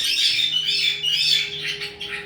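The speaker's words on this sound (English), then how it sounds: "now Penny can get up there and not have any problems with the other parrots" Several pet parrots squawk and chatter in an indoor bird room, a run of harsh, overlapping calls close by over a faint steady hum, no talking.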